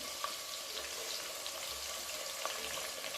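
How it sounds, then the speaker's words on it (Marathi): Two large, finely chopped onions fry in spice-flavoured oil for chicken biryani, a steady, dense sizzle and crackle close to the pan with faint stirring and no voices. "आता आपण त्यामध्ये बारीक चिरलेले दोन मोठे कांदे टाकून घेऊ"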